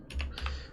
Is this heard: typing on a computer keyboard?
yes